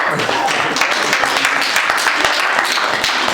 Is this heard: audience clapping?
yes